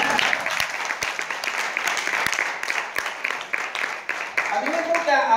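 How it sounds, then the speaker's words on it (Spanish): An audience claps strongly at a stage talk, a dense mass of clapping with a few sharp individual claps standing out, while voices and cheers rise near the end. "Dense un fuerte aplauso."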